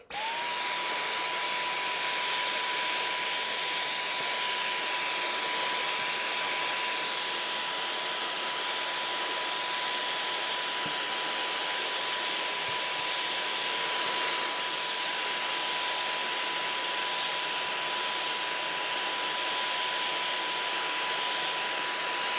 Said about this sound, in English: I'm going to bring the vacuum cleaner in and just give it a little bit of a tidy up